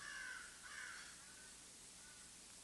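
Crows caw loudly and close by in a couple of harsh calls early on, then fade into a steady hiss of cicadas under open outdoor air.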